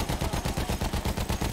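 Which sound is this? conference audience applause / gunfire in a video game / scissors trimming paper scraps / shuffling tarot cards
gunfire in a video game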